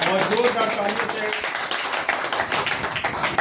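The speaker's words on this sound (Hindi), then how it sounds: "और जोरदार तालियों से" Loud clapping from an audience welcoming Manoj at a gathering of retail traders with a State Bank team in Jhajha, Jamui, a dense, steady patter that runs the whole time with a voice over the start.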